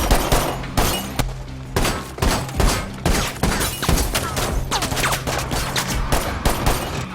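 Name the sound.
gunfire in a film shootout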